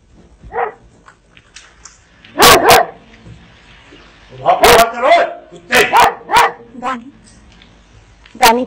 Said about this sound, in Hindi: सारे रात की अगर ये कुत्ता भौंकता रहा